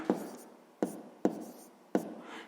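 Pen strokes on paper while a math answer is written down: four sharp taps and scratchy scribbles at a steady pace, close and fairly quiet, with no talking.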